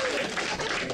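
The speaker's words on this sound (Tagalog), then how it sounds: "Palakpak sila Luni." A crowd claps steadily at a Filipino rap battle event, dense continuous clapping heard close and fairly loud for a brief moment, with voices mixed in.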